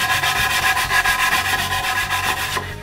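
The inside of a wooden handle in a tack box divider is filed and sanded by hand, with about a dozen quick, even back-and-forth rasping strokes, close and steady, stopping just before the end.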